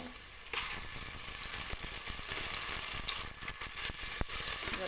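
Ginger garlic paste sautéing in a hot pan for a country chicken curry, a bright steady sizzle that starts abruptly and carries on, broken by a few soft stirring scrapes.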